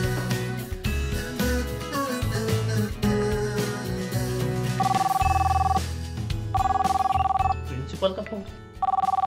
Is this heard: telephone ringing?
yes